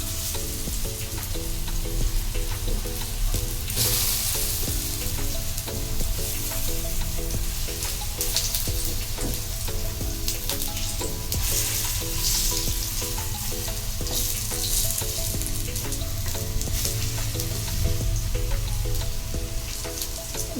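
Vegetable kababs frying in oil in a pan, a loud continuous crackling sizzle that holds steady throughout, with faint occasional clicks and no voices.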